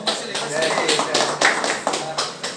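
Applause at a lucha libre wrestling show, a brisk patter of hand claps running throughout under a person talking.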